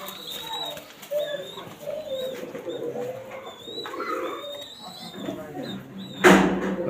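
A female pigeon held in the hand at a pigeon loft gives soft, low cooing, repeated several times beneath ongoing conversation, with a brief louder knock near the end.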